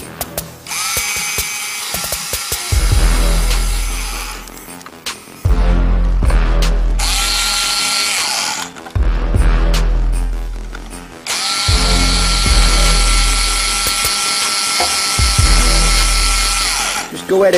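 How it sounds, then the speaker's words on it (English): A drill bores into the plastic body of a 1946 RC wrecker model in three separate high-pitched whirring runs, close and loud, with short pauses between them. "I don't want to drill a hole in it."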